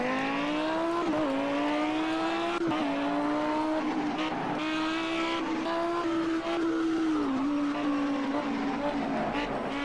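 Race car engine in the Project CARS racing video game, a loud sustained high-pitched drone that rises and dips with gear changes, heard alone for the whole stretch with brief tire squeal.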